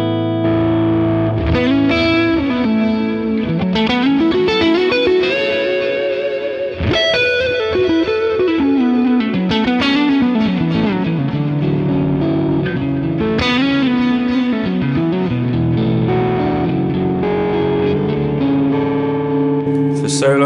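Electric guitar played through a Fractal Axe FX III modeling a Vox amp, heavily effected with distortion and chorus-like modulation; sustained melodic lead lines and chords ring continuously and loudly, with no talking.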